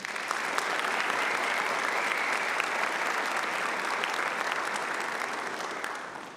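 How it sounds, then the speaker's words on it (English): Evening Ivy Day ceremony audience applauding a musician, sustained indoor clapping from a sizable crowd, steady and even before tapering off at the end. "Please join me in a round of applause for her talents and time."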